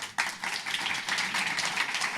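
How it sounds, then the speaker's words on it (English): A conference audience applauds a speaker at a start-up event, steady dense clapping that starts abruptly and holds at a fairly even level. "A round of applause."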